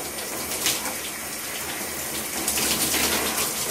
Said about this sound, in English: All you gotta do, turn the water as cold as you can.